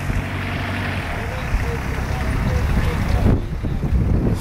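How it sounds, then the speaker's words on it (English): Steady outdoor wind rushing across the microphone, a continuous broadband roar that swells slightly toward the end, with no talk in the clip. "Wind's coming."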